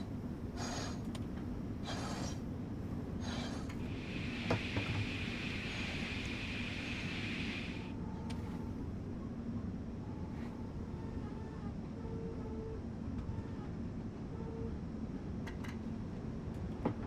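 A train in the Train Sim World game on the Semmering line runs with a low, steady mechanical drone, while intermittent higher whines and hisses rise and fade over the quiet rumble.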